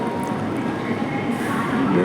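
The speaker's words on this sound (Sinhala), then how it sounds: "දැන් මේ ට්‍රේන් එක පිටත් වෙන්න යන්නේ" A Japanese bullet train pulling away from a platform: a dense, continuous rumble and rushing noise that holds steady and swells slightly as it departs.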